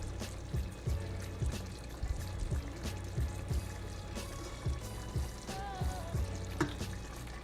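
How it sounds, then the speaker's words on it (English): Half a lime is squeezed into a vegan pesto, giving close, continuous wet squishing and dribbling of juice with small irregular clicks and no talk. "I'm gonna squeeze some lime in here."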